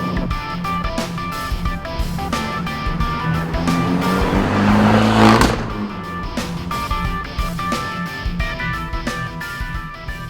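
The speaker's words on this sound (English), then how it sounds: "A hearty growl emerges from those 4 rear pipes" A Fiat 500 Abarth 695 Tributo Ferrari growls through its four rear exhaust pipes, revving up to a loud peak before the pitch drops, with wind rush and road noise around it.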